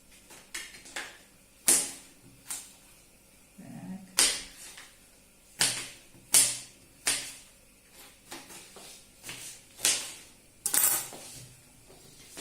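A knife cuts firm apples into medium-thick slices on a board for an apple pie filling, producing a dozen or so sharp, crisp clicks and thuds at an irregular pace.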